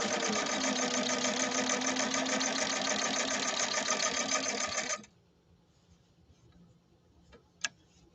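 A 1931 Singer 101-4 sewing machine stitching vinyl material runs with a loud, steady mechanical whir for about five seconds, then stops, leaving a quiet room with a few faint clicks.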